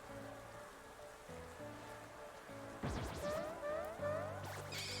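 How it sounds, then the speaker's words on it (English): Rain begins falling in a Pokemon video game battle, triggered by Politoed's Drizzle ability, a steady patter building over game music with a crash-like burst partway through. "It's going to start that rain with its hidden ability Drizzle."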